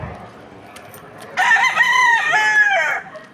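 A rooster crows once, loud and near, a long drawn-out cock-a-doodle-doo rising then falling, after a quiet stretch with faint background clucks on a chicken's morning.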